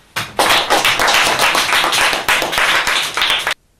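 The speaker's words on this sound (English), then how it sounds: "You can give yourself a round of applause now." A class of learners gives a round of applause, a dense burst of close, loud clapping that starts abruptly, runs steadily for about three seconds and then stops sharply.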